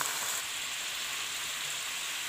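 Garlic sizzles in hot fat as it is added to taro greens, chard and green coriander frying in a pan, a steady close, bright crackling hiss with no talk.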